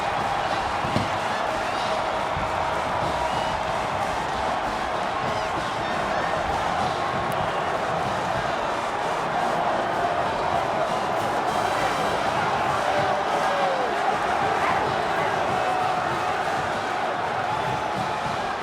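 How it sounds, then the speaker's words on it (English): A record crowd of Old Dominion football fans pours onto the stadium turf after the Monarchs beat Virginia Tech, a dense, steady roar of voices and shouting that carries without a break. "The largest crowd in the short history of Old Dominion football has spilled onto the turf"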